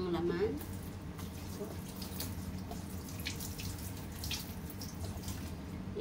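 Bell pepper rinsed under a running kitchen tap, a steady hiss of water splashing into the sink with small clatters, and a voice speaking briefly at the start.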